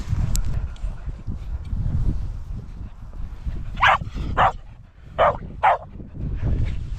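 Several small dogs barking outdoors on a walk, giving a handful of sharp yaps in quick pairs over rustling footsteps and background noise, moderately close.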